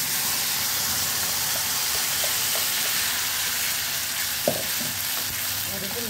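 Tomato paste frying with sautéed onions in a pan for pindi chole, a loud continuous sizzle and hiss with occasional soft clinks from stirring, close by.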